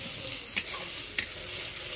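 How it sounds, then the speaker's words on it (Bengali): Food frying in a pan until it turns red, a steady close sizzle with two brief sharp clicks of a utensil against the pan, no talking. "পুরো লাল লাল করে ভাজা হয়ে যাচ্ছে"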